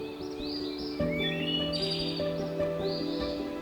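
Two young birds call from a nest deep in a forest, giving thin rising whistles and chirps in short overlapping bursts, with a steady tonal background underneath.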